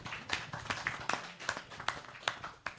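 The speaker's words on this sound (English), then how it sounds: "so give yourself a big round of applause" Audience applause at a conference session, a scattered burst of claps of moderate loudness with uneven rhythm, some claps sharper and nearer than others, no voices over it.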